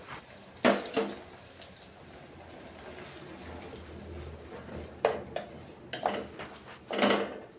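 A spoon stirs chopped tomato into fried onion in a pan while fenugreek-leaf palya cooks, giving a few sharp metallic scrapes and clinks in clusters between quiet stretches, close by.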